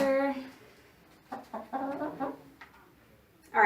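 A hen clucks softly in short bursts while held for a veterinary exam in a laboratory animal clinic, with a few brief vocal pulses near the start and end and quiet gaps between.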